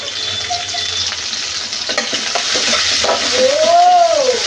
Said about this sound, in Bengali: পেঁয়াজটা আমি সামান্য লাল লাল করে ভাজি করে নেব।